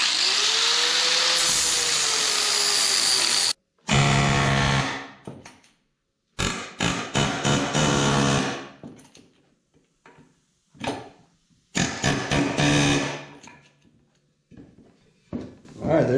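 A power tool grinding out old rivets on a 1970 GMC truck: a long, loud grinding whine at the start, then stop-start bursts of grinding and rattling broken by silences, with someone talking in between.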